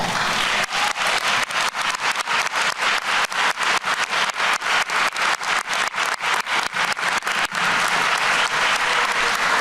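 A large audience at a community college graduation ceremony applauds steadily and loudly, a dense wash of clapping that carries on without pause from start to finish.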